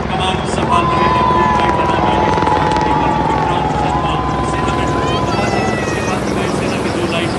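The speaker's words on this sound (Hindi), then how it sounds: "सेना के 2 लाइट कॉम्बैट हेलीकॉप्टर प्रचंड" Apache and LCH Prachand military helicopters fly in diamond formation over a Republic Day parade, a loud, steady rotor roar filling the whole stretch while an announcer talks over it.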